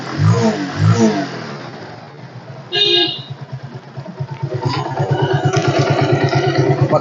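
A second-hand 2012 Suzuki Swish scooter's engine idles and is blipped, starting with a couple of short revs, then settling into a fast, throbbing idle that grows louder and busier, with a brief horn-like tone partway through.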